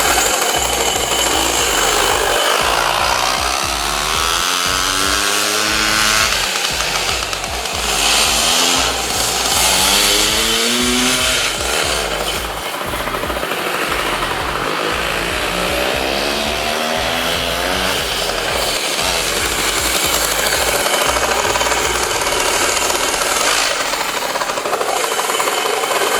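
A dirt bike engine runs hard on a test ride, a loud continuous buzzing roar that rises and falls as the throttle changes, with no talking.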